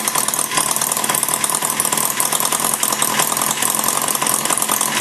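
A Maier TA4 engine runs after a tune-up with a steady, busy mid-pitched idle that stays loud and close the whole time, with no one talking over it.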